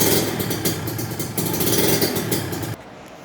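A Kawasaki Ninja RR two-stroke motorcycle engine runs close by with a loud, raspy rev that holds steady, then cuts off abruptly near the end, leaving a quieter background.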